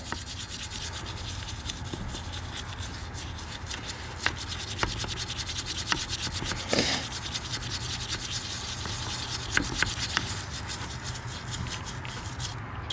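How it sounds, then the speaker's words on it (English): Continuous scrubbing and rubbing as years of tar are wiped off the throttle body of a 2001 Chevy Tahoe, steady and close with a few sharper scratches, no talking. "I feel like it's like we're just wiping away years of tar"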